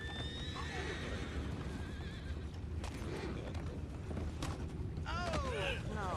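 A horse neighs in a short whinny in Red Dead Redemption 2, over faint clip-clopping hooves and creaking mechanisms, with a low steady background.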